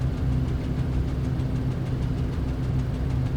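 Steady, rumbling drone from the piston engines of a Hughes Spruce Goose flying boat in Microsoft Flight Simulator, held at a constant throttle setting with a low, knocking pulse and no talking.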